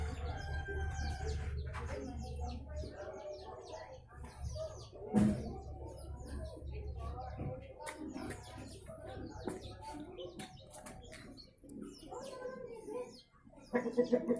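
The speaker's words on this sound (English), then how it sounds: "So, Mr. Rooster, are you happy with these young chicks?" A rooster and young chicks cluck, with scattered chirps and short calls at close range. Some faint voices and low background rumble sit underneath.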